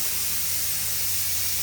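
A pressure cooker vents steam in a loud, continuous hiss, close by and unbroken for the whole moment.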